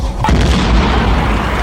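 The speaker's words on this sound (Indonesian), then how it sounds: "mobil itu langsung meledak dikarenakan Ivan yang sengaja menembak ke arah tangki bensin" A car explodes after its gas tank is shot, giving a loud, deep boom followed by a sustained rumbling roar.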